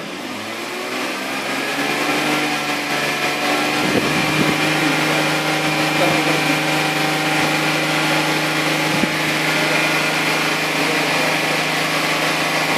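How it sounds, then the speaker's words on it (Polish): A BMW E46 330i M54B30 engine held at about 3000 rpm keeps a steady, even hum at constant revs, droning continuously without rising or falling. "daj go na jakieś 3000 obrotów i trzymaj równo gaz"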